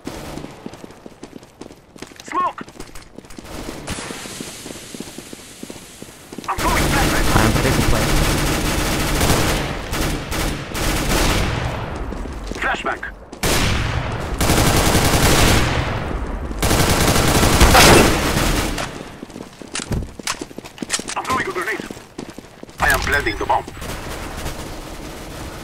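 Rapid bursts of P90 submachine-gun fire in Counter-Strike: Global Offensive rattle out in loud clustered volleys with brief gaps, mixed with footsteps and players talking over the action.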